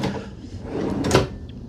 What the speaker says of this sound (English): I like the soft closed drawers.